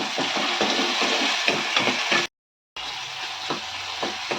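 Small tomatoes sauté in a pan for a dry fish gravy, a loud close sizzle with repeated stirring scrapes, broken by a brief silent gap before frying resumes; no voices.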